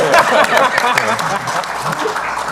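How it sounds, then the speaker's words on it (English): Scattered clapping from a group at the Disney Infinity Toy Box Summit 2014 fills the space, with dense, crackling applause holding steady before gradually thinning out. "So I got everyone to clap."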